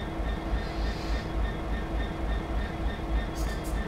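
A Class 66 goods train runs in Train Simulator 2017, a continuous low rumbling diesel drone with faint rhythmic rolling, steady and fairly close, without speech.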